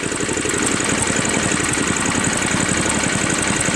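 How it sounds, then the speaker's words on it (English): A Craftsman 5HP 24-inch dual-stage snow blower engine idles steadily up close, with an even, rapid chugging pulse and no voices. "Idles well too."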